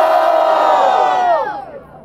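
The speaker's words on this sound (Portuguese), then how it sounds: "Quem gostou das rimas de Apolo e AJ?" Crowd at the Batalha da Leste rap battle semi-final cheers and shouts loudly in one sustained roar that fades toward the end.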